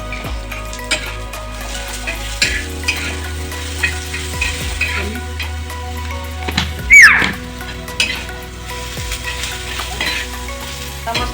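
Onion and chili fry in a hot pan with a loud, steady sizzle, broken by a few clinks and scrapes of stirring.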